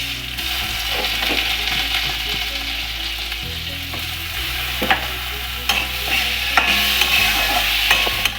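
Gobindobhog rice frying in ghee in a wok for payesh, a loud, continuous sizzle with a low steady hum beneath and a few louder scrapes and clacks of a spatula stirring toward the end.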